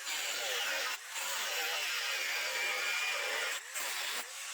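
A cutting tool slices slots between drilled holes in an iron plate, a loud, continuous high grinding whine that drops out briefly twice before resuming, with no talking.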